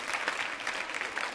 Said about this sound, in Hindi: तालियां बजाइए इन सभी के लिए जोरदार तरीके से आप।